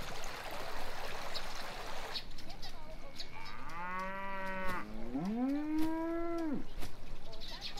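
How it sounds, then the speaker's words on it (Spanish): Cows low in long drawn moos, one after another, close and loud over a steady trickle of running water in a countryside scene from the animated series Shin-chan. "Es un problema que haya tantas vacas."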